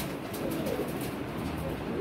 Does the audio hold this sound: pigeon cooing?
yes